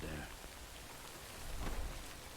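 Rain falling in the video game Death Stranding, a dense, steady hiss of downpour with a low rumble swelling briefly near the end.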